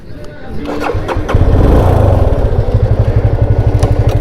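A motorcycle engine cranks and catches, then settles into a loud, close, rhythmic idle. Its chugging pulses carry on steadily to the end.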